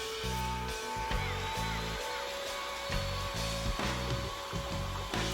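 A blender whirs in short repeated pulses while blending cashew cheese in a kitchen. The low motor drone starts and stops about every second and sits fairly quiet under a faint background hum.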